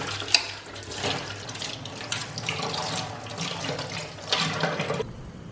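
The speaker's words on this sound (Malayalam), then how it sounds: "എല്ലാം കഴുകി തുടച്ച് സ്റ്റാൻഡിലാക്കി വെച്ച്" Tap water runs steadily into a kitchen sink while utensils are washed, with splashing and a few clinks up close.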